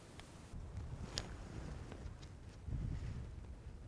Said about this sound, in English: Wind's blowing pretty hard tonight.